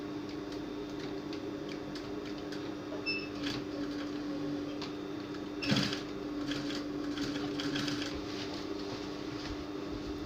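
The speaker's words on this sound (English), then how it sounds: "just continue pushing all the raw edges inside and you continue to top stitch" Sewing machine top stitching a pencil skirt, a quiet steady mechanical hum with light rapid ticking of the needle, a brief louder clack midway, and no voices.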